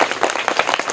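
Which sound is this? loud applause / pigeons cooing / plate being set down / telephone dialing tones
loud applause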